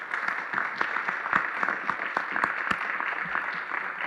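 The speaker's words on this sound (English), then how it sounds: "Let's give them another round of applause." Audience applause honoring educators at an evening hall of fame ceremony, a steady dense patter of many hands with scattered sharper claps, moderately loud and continuous throughout.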